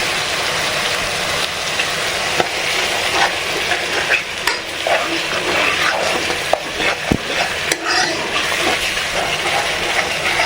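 Curry base of salt and spices frying in a pan for a bommidai fish and raw tamarind pulusu, stirred throughout; a loud, steady sizzle runs across the clip with scattered scraping clicks from the stirring and no talk.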